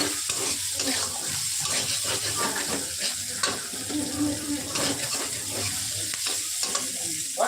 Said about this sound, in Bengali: ক্যাপসিকামগুলো একটু ভালো করে হালকা করে ভেজে নেব